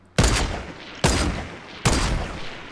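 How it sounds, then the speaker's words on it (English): Three loud, close gunshots from Fortnite ring out about a second apart, each with a sharp attack and a decaying rumble. "I kept shooting at him."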